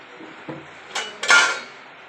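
A lid set down over a pot of egg curry with chana dal, giving a soft clatter and then a louder metallic clink and scrape of the cover settling into place, close by in a quiet kitchen.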